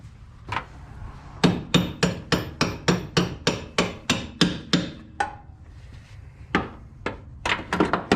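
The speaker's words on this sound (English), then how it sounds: "We need a hammer." Sharp hammer blows on an LS-swapped Firebird in a garage, a fast regular run of about a dozen strikes followed by a few slower, spaced hits, close and clear.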